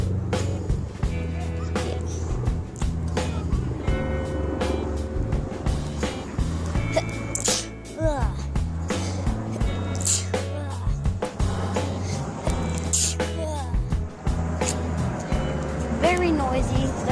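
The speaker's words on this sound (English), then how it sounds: "Very noisy. There's lots of traffic and helicopters and people." Busy city street traffic with passing cars and other vehicles, plus helicopters and people nearby, forms a steady loud rumbling bed throughout, with people talking over it.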